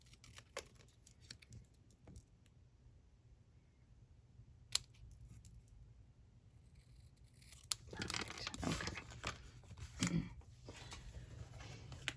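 Snips cutting cardstock for a Stampin' Up! card: faint, soft snipping and paper rustles close by, quiet at first and then a denser burst of cutting and handling near the end.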